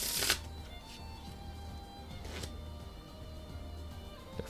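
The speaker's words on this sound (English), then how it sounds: "Let's do a Pharaoh shuffle." Close, quiet riffling of playing cards during a Pharaoh shuffle, with a sharp burst at the start and another in the middle, and soft handling between.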